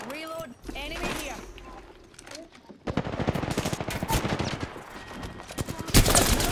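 Rapid automatic gunfire in Apex Legends, dense bursts of shots that build from about three seconds in and grow louder toward the end, with voices talking over the earlier part.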